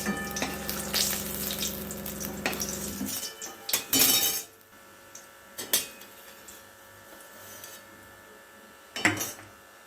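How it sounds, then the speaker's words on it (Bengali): Bay leaves, cinnamon, cardamom, cloves and cumin sizzle in hot oil for basanti pulao, a dense hiss for about three seconds that stops abruptly and is followed by scattered clinks of utensils. "এই তেলের মধ্যে আমি এবার দুটো তেজপাতা দু তিন টুকরো দারচিনি তিনটে এলাচ দু তিনটে লবঙ্গ আর একটু জিরে ফোড়ন দিয়ে দিলাম"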